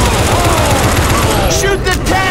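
Dense gunfire from several weapons blazes at a Tank in Left 4 Dead 2 multiplayer, a steady loud rattle of shots lasting throughout, with players talking over it.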